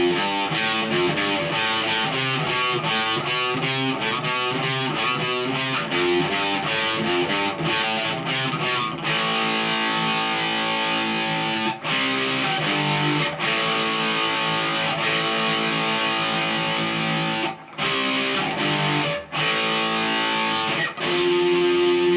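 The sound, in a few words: electric guitar power chords, a riff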